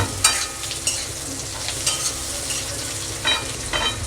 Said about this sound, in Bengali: পেঁয়াজটা আমার একটু ভাজা ভাজা হোক